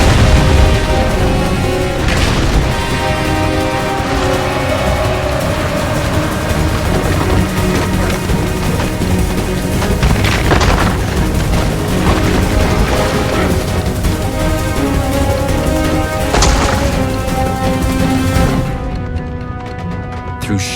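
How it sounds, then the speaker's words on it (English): A film action scene with a bomb blast inside a room followed by an entire building collapsing, heard as a dense, loud, continuous roar of booming crashes and rumbling debris, with several heavy impacts standing out across the stretch. "The explosion stunned Bond. Before he could react, an entire building collapsed directly onto him."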